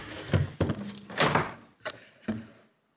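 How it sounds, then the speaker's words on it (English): Several dull thunks and knocks as the lid of a combat robot test box is handled and shut, close and moderately loud, spread over a few seconds before going quiet. "Now you remove the weapon lock, close up the test box,"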